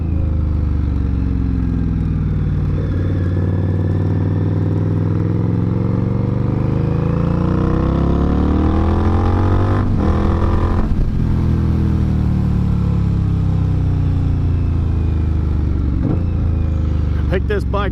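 Motorcycle engine while riding, a loud continuous drone with revs rising and falling through shifts, and someone talking over the engine.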